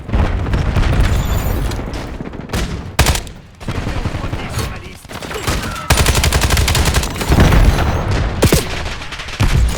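Grenade blasts and bursts of gunfire in Call of Duty Black Ops 7 rip through a dense battle, with repeated loud booms and rapid firing throughout and no speech.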